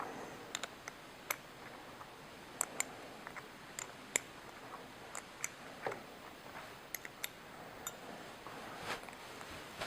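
A lock nut is loosened and removed from an archery release head with a 3/8 wrench, heard as faint, sparse metallic ticks and small clicks at irregular intervals in a quiet room.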